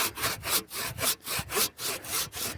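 Handsaw cutting wood for a birdhouse, steady back-and-forth rasping strokes in an even rhythm, close and fairly quiet, with no voices.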